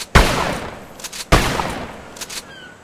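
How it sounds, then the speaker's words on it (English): Pump-action shotgun firing in a first-person shooter video game: two loud, punchy blasts about a second apart, each trailing off into a rumbling echo. "The pump action shotgun is more satisfying to use in the long run, punchy and highly effective with a good aim."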